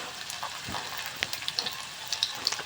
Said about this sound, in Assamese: তাৰপিছত এয়া শুকান জলকীয়া কেইটামান দি দিলোঁ তাতে।